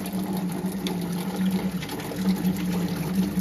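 Stale water drains out of an air cooler in a steady trickling, gurgling flow with a faint low hum underneath, close and moderately quiet, with no talking.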